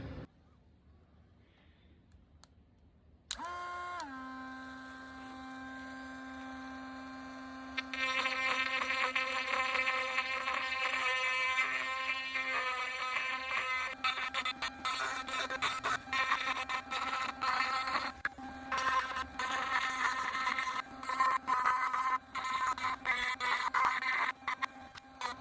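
A Dremel Lite rotary tool on its third speed setting spins up to a high, steady whine, then bites into wood with a loud, rough, fluctuating grinding and buzzing that continues close up to the end.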